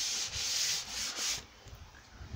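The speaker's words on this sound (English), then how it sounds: "I went over with the 120 first, get it smoothed, and then polished it off a little bit with the 320" Sandpaper rubbing along a painted MDF edge with 320 grit, a close, steady scratchy hiss in a few strokes that drops off partway through, with no talk.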